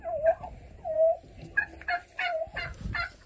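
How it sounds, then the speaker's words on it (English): Several turkeys gobble in short, rapid bursts, nearby and fairly loud, with brief pauses between calls and no talking. "Look at that, look at the turkeys."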